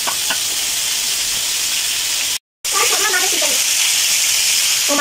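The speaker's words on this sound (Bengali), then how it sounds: "এখন আলুটাকে হলুদ আর লবণ দিয়ে ভাজি করে নিব" Potatoes frying in a pan with turmeric and salt give a steady, loud sizzle throughout, broken by a brief silent gap midway, with faint stirring scrapes beneath.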